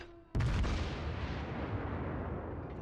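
A single deep, booming salvo from the Kawachi battleship's guns in World of Warships bursts out after a brief lead-in and rolls into a long rumbling decay, loud and with no voices over it.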